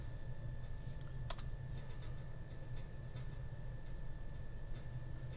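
Quiet, rapid keystrokes tap on a computer keyboard while a Linux terminal command is entered, with a few sharper key presses over a low steady background hum.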